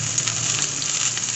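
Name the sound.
onion sizzling as it is added to a frying pan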